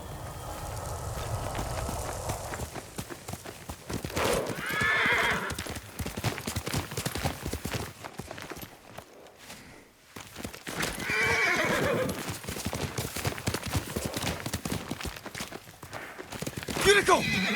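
A horse in Ghost of Tsushima whinnies and stamps, hooves clopping on the ground in bursts, with loud neighs rising around the middle and near the end over game ambience.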